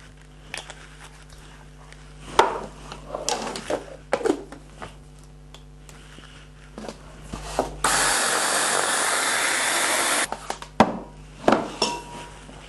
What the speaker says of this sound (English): And pop all that into a blender along with a little bit of cinnamon.